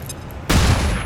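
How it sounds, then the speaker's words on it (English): Flashbang grenade in XCOM Long War 2, a single sharp loud blast that bursts in abruptly and rings on briefly after a quiet moment. "let's have you toss the grenade. Flashbang."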